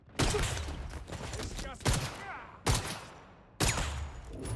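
Gunfire in the action video game 007 First Light, loud bursts in four clusters with dense crackling between them and mixed game sound effects, no talking.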